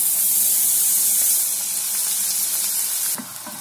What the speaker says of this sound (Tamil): எண்ணெய் காஞ்சிடுச்சு, இப்போ பிரண்டியை வந்து பொரிச்சு எடுத்துக்கலாம்.